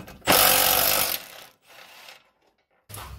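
A breaker bar works loose 17 mm bolts on a Honda Civic automatic transmission, giving one close, gritty mechanical burst of about a second, then softer clicks and a brief final scrape.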